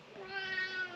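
A pet cat gives a single drawn-out meow, close and fairly loud, with a clear harmonic tone lasting about a second, heard alone indoors.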